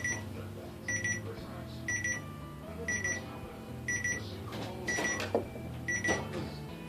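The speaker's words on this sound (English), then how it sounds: "It is now rising over our pre-programmed limit, and the alarm is telling us about it." A wireless thermometer's temperature alarm beeps in a steady, repeating pattern of short high-pitched bursts about once per second, with faint clatter in the background.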